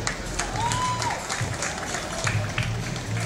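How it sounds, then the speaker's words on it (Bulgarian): Applause from a club audience keeps up steadily for a few seconds at moderate level, with a faint whistle and some background voices mixed in. "Моля аплодисменти за него."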